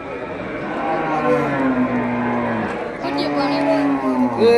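Deep, drawn-out lowing from a Tiruchendur buffalo, two long calls in a row, fairly close with faint background noise.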